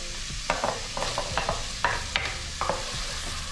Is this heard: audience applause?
no